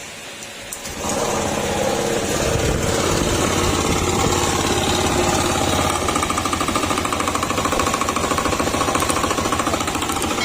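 A Honda Click 125 scooter engine in need of an overhaul starts after a second of quiet and then runs loudly and steadily up close, with a rapid knocking, rattling clatter throughout.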